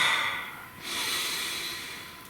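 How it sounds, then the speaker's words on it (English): A single deep breath, close and fairly loud: a sharp inhale through the nose that eases, then a long, airy exhale that carries on to the end, with no talking. "Please take a nice deep breath."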